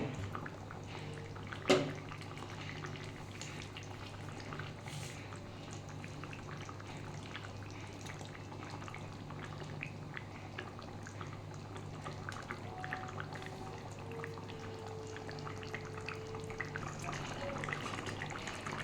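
Katla fish curry with potato, drumstick and pointed gourd simmering in a pot, a faint, steady bubbling and burbling close by, with one brief knock early on; no talk.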